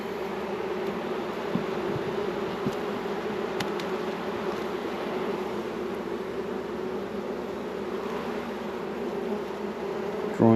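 Honey bees hum around an open beehive during varroa treatment, a continuous mid-pitched buzzing swarm close by and steady, with faint handling clicks and no talk.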